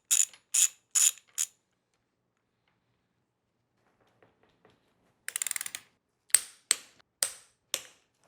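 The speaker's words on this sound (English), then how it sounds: "Just get that started. I'm not gonna fully tighten it just yet." Bolts are threaded and tightened on a Talaria Komodo electric motorbike with a hand ratchet, heard as short bursts of close, crisp ratchet clicks separated by silence, plus a few faint taps.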